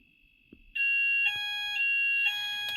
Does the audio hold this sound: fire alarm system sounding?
yes